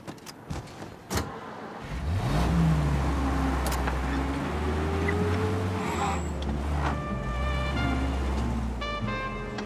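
A car in the video game Mafia: Definitive Edition starts off after a few clicks and thumps, its engine rising and then holding a steady drone as it drives, close and prominent.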